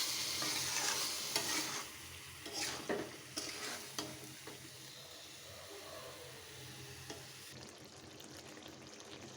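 Spiced chicken being sautéed in a pan for curry, a close frying sizzle with irregular scraping and stirring strokes, fading to a softer hiss toward the end, with no talking.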